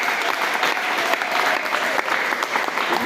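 A church congregation applauding, dense sustained clapping from many hands filling the room for the whole stretch, with no talk over it.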